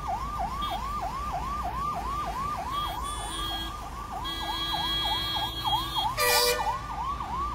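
A fire engine siren wails in fast, steady up-and-down cycles on a highway in Badlapur, loud and continuous, with a brief burst of hiss near the end.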